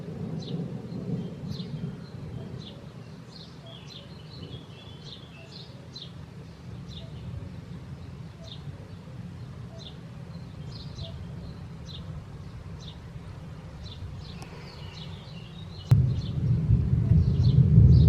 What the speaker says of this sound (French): Je vais vous montrer un petit peu si on entend un petit peu quand ça tonne.